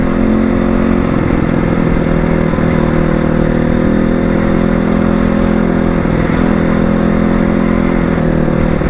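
A Crossfire motorcycle engine drones loud and steady while riding, close and continuous with no pauses or talk.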